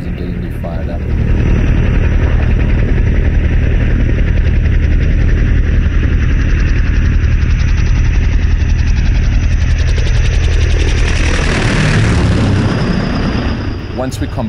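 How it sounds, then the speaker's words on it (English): A loud, steady helicopter roar over the Congo, with dense low rumble and rotor chop, swelling and shifting near the end as it passes close by. "the sound of the rotors chopping through the air"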